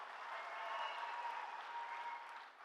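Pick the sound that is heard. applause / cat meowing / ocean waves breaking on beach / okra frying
applause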